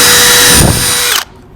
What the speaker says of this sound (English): So I always like to pilot hole